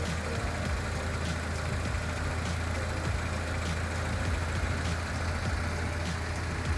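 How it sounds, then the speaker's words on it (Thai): A Toyota Vigo 2.7G automatic 4x4 pickup truck engine idles smoothly, a steady low rumble with an even hum and no stumbles throughout. "เครื่องยนต์เดินเรียบมากๆเลยนะครับ"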